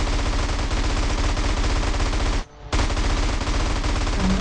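Sustained loud automatic gunfire in the video game GTA San Andreas, a dense rapid burst that cuts out briefly for a split second and then resumes just as loud, with no talking.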